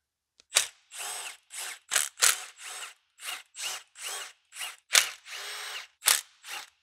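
Power tool whirring in short bursts while backing out valve cover bolts on a heavily modified Japanese tuner car, about fifteen close, loud pulses with short pauses between them.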